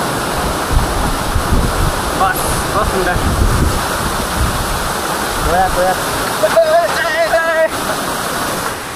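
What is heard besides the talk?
waterfall rushing with strong wind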